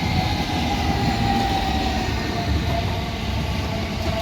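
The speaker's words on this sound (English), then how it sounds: "Here's the arrival of the 12:31 South Western Railway service from Waterloo to Shepperton." A South Western Railway class 455 electric train arriving at Raynes Park station on the Waterloo to Shepperton service makes a steady, loud rumble of wheels and motors, with faint squeals.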